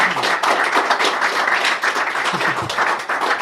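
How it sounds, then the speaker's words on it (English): An audience at a live event at the British Interplanetary Society applauds as a guest from Mars Nation walks up, a steady wash of clapping for a few seconds with a little low chatter mixed in. "Please, round of applause, Alicia."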